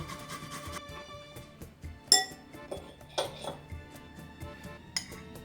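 Utensils clink and scrape against a bowl as seasonings with black pepper, ginger and salt are stirred for fried carp in sour cream, with irregular metallic taps and a few sharper knocks, fairly close.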